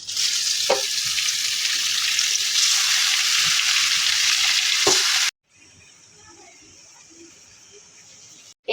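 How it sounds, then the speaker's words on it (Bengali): Beef fries with onions, cardamom, cinnamon and cloves in a loud, continuous sizzle, with sharp spatula scrapes as it is stirred, then drops abruptly to a quieter, softer hiss for the last few seconds. "এই যে মাংসটা ভালোভাবে কষিয়ে নিলাম"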